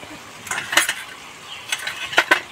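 Spices such as coriander powder and cumin stirred in a cooking pan while pumpkin greens cook: a few quick metallic scrapes and clinks of a spatula in short bursts over a faint background hiss, close and without speech.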